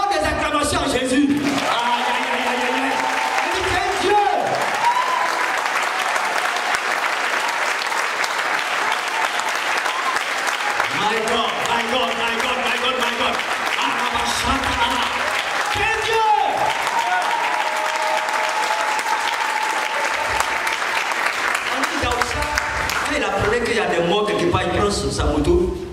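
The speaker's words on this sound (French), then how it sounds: "Donne des acclamations à Jésus." A church congregation bursts into long, loud applause and cheering for Jesus, continuous clapping with shouting voices rising and falling over it for the full stretch.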